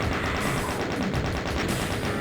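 Dense, continuous gunfire from the classic shooter The Plutonia Experiment, a loud steady barrage of rapid shots and explosions with no talking over it.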